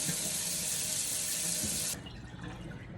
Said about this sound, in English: And then I'm washing my potatoes that I've chopped up